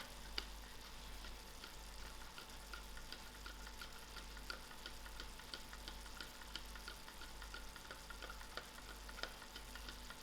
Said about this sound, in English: and I'll give this a nice stir.